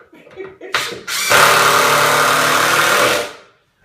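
A power drill drives a 3-inch screw into pre-drilled holes in a bed frame, a sustained loud whirring burst of about two seconds after a short start, ending abruptly.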